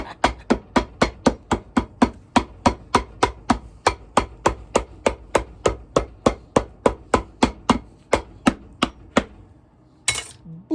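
A hammer pounds a riding boot during a cobbler's remake of the boot, in about thirty sharp, evenly spaced blows that sound close and loud. The strokes stop briefly and one last clatter follows.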